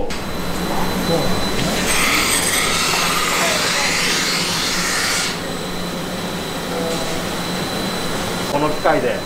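A belt grinder fitted with an endless abrasive belt runs while a handmade kitchen knife handle is polished against it, giving a loud, steady whirring hiss with a harsher grinding stretch in the first half, and speech is heard over it.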